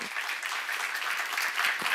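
A church congregation applauds during a Bible seminar, with brisk, dense clapping that continues steadily, fairly close and without talk.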